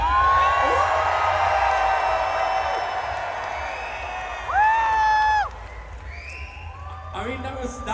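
An outdoor audience at a vegan camp-out event cheers loudly with whoops and shouts in a sustained roar, swelling briefly before fading, while voices call out over it.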